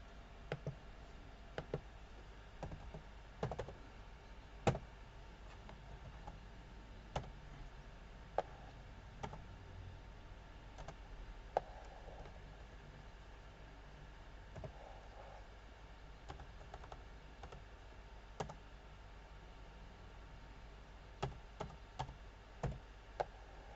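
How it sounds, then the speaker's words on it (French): Sparse clicks and taps from a computer keyboard being typed on slowly, with irregular pauses between keystrokes, quiet and close over a low steady background hum, no voices. "d'abord, je vais écrire l'énoncé"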